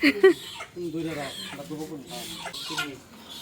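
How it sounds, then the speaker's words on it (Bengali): A native rooster squawks and clucks in short, agitated bursts at close range during slaughter, with human voices mixed in and overlapping the bird calls. "বিসমিল্লাহ আল্লাহু আকবার বলে প্রথম দেশি মোরগটা জবাই করা হচ্ছে"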